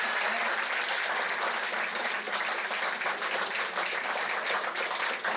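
Students at a meet welcome India's finance minister Nirmala Sitharaman with dense, sustained applause, a loud even wash of many hands clapping throughout with no pauses.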